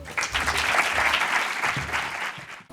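Audience at a talk on rare lysosomal disease bursts into applause, a short, full wash of many hands clapping at once for under three seconds, moderately distant and fading at the end.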